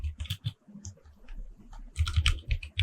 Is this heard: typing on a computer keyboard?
yes